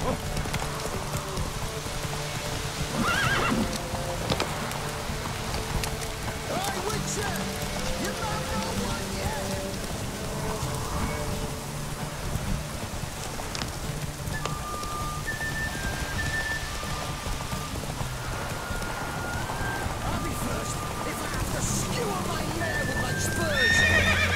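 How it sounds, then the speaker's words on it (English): Hooves clip-clop steadily through rain in The Witcher 3, with a horse whinnying now and then, over continuous rainfall and with voices talking throughout. "I'll be first if I have to skewer my mare with my spurs."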